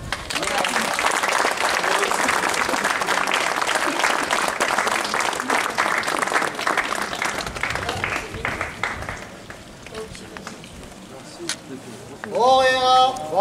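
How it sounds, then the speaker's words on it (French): A crowd at a night watchman's evening round in Turckheim, Alsace applauds in a dense outdoor burst lasting several seconds, then thins to scattered claps before a voice speaks near the end. "Il mérite un applaudissement."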